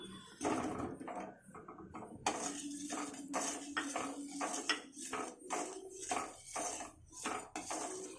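Bread and cashew gulab jamun are placed into warm sugar syrup in a pan, producing a quiet, irregular series of spoon clinks and soft taps against the metal vessel.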